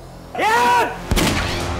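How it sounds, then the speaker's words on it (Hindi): A brief tonal, voice-like cry is followed by a single sharp, loud gunshot bang that rings out briefly. "ये तो गोली की आवाज है।"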